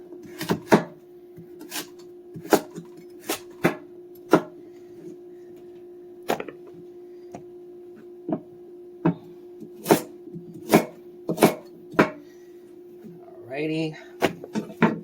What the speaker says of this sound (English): And chop these into little pieces.